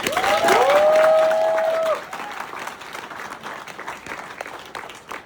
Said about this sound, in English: If you guys agree, let's give a round of applause